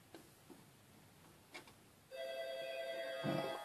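A telephone ringing indoors in a workshop during tank model building, starting after a few faint ticks and clicks as a steady, even electronic ring that continues to the end at moderate level.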